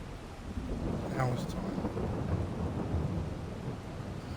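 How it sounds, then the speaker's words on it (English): Thunder rolls through a rain storm over a farm field, a low rumble building and fading beneath steady rainfall, with a brief spoken remark partway through. "that was a loud bit of crack of thunder and lightning"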